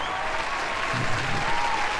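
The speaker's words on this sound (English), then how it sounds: "everyone that is cheering for him right now" A large crowd applauds and cheers in a continuous, dense wash of clapping that stays loud and steady throughout, with no clear individual voices.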